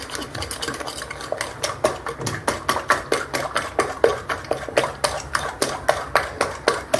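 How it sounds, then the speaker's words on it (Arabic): A spoon or whisk stirring lemon cake batter in a bowl, with steady, rhythmic scraping strokes against the bowl's sides, clear and close, no voices. "قلبوهم مزيان."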